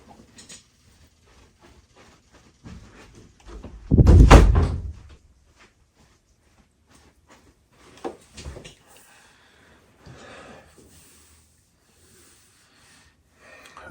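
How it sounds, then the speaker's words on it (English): A door is pushed shut with a loud, close thud and rustle, followed by a few softer knocks and handling noises in an otherwise quiet room. "Ozzy, I'm going to close the door."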